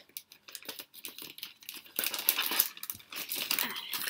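Scissors cut into a cardboard subscription book box, with crinkly snipping and tearing bursts that grow louder and denser midway through, quiet and close, with no talking.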